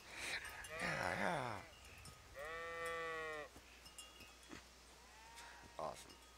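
Sheep bleating in the video game Kingdom Come: Deliverance, several loud wavering bleats, one long and sustained, with fainter animal calls and a voice murmuring in between.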